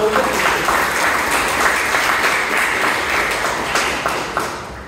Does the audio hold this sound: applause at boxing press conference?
yes